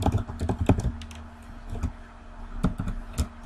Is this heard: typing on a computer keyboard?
yes